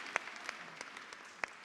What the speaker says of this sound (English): Sarah clapped.